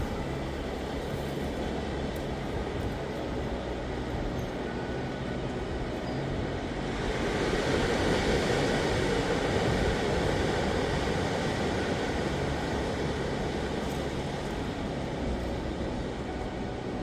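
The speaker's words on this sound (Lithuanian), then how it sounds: "Bangų mūša." Ocean waves break along the Malibu coast as a continuous broad roar of surf that swells louder about midway and holds steady, with no voices.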